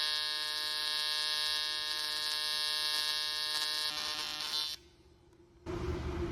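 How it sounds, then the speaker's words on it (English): AC/DC TIG welder, a YesWelder TIG200P running at 160 amps, laying an aluminum fillet weld: a loud, steady electric buzz that cuts out for about a second, then restarts. "Let's do a little fillet weld."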